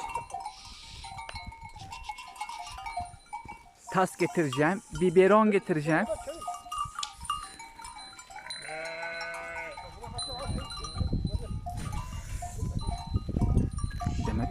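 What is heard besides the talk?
sheep bleating on a farm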